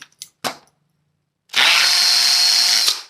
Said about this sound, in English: This is what's happening is this in hammer drill in mode, it beats against the concrete, very fast vibration